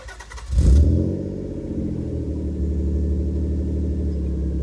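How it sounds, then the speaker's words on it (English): A naturally aspirated 1990 Nissan 300ZX engine roars up loudly near the start, then settles into a steady, droning hum as the car drives on, with no talking. "now we're driving the naturally aspirated 300ZX"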